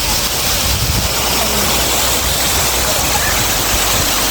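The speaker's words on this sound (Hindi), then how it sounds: "यहाँ पे कई जगह इस तरह से पानी आ रहा है, बरसात की वजह से आया होगा।" Rainwater rushing down over a mountain road in Uttarakhand, a loud, steady broadband wash of flowing water close by, alone without talk.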